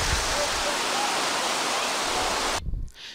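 Jenny Creek in Grand Teton National Park rushes in a steady, loud broadband roar of flowing water, close and continuous for nearly three seconds before cutting off abruptly into quieter handling noise.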